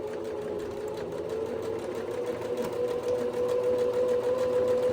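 A sewing machine stitches white rope for a coiled rope bowl, its motor whirring loudly in a steady, continuous run that builds slightly toward the end.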